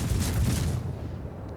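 Heavy naval gunfire from the Kirov cruiser in World of Warships: a dense, booming burst that fills the low end, fading into a rumbling tail without any voices.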